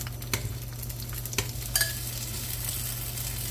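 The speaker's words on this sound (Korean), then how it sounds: "기름이 살짝 달궈졌으면 탕수육도 살짝 튀겨주실게요" Steady bubbling sizzle of pork pieces deep frying in hot oil for tangsuyuk, with a few sharp clinks and scrapes over the crackle.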